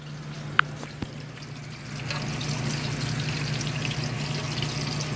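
Zucchini chips fry in a pan with a steady, soft sizzle that grows slightly fuller after the first couple of seconds, with a couple of brief clicks near the start and no talking.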